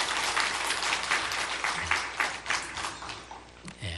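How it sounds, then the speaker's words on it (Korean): A church congregation applauds the Immanuel choir on a Thanksgiving service day, with clapping that starts full and then thins into scattered claps and fades out, a few voices audible near the end. "우리 임마누엘 찬양대 한번 박수로 격려하겠습니다"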